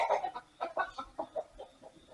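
Several chickens cluck in short irregular bursts at a farm where a 1947 Ford 8N tractor is being worked on, fairly close but moderately quiet, with no talk over them.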